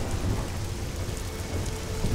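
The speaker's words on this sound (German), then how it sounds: "das Gewitter scheint nicht abzuziehen" Steady heavy rain and rolling thunder from a storm in the video game Risen 2, a dense continuous wash with low rumbles throughout and no voices.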